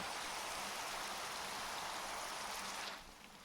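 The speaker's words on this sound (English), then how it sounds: "and it's raining, of course it is." Rain falling in a video game, a steady, dense hiss of drops that holds evenly, then drops abruptly quieter near the end, with no voices.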